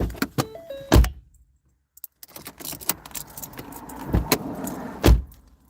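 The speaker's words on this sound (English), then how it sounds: "I don't know if you could hear me or not because my car kind of took over." Car noises inside a vehicle: keys jangling, clunks and thumps with a brief electric whine, then low engine rumble and scattered knocks, loud and close, with no talking.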